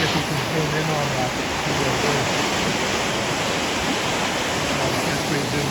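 Vedder River running high after a rain storm, a steady broadband roar of rushing water, close and unbroken, with a voice speaking faintly beneath it.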